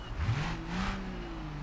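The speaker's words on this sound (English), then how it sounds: "I also love the sound of that diesel engine" Diesel car engine revving in BeamNG.drive, a six-speed manual with racing brakes, giving a brief rising then sustained drone at moderate loudness with no one talking.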